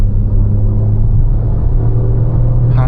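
A Toyota Urban Cruiser Taisor with a 1.0L turbo engine and manual gearbox accelerating in third gear, giving a loud, steady cabin drone and rumble that stays even throughout, with no speech.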